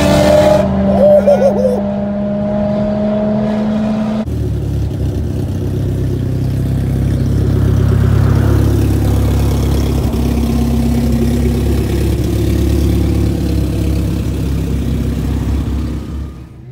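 A BMW car at the Bimmerfest enthusiast gathering runs and idles nearby, a loud, steady low engine rumble that swells slightly in the middle, with people talking over it.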